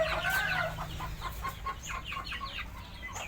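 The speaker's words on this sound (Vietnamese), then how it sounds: "4 gà giáp là gà đen đó." Black gà giáp chickens clucking close by in a short run of quick, soft clucks and calls over a low background hum, with no talking.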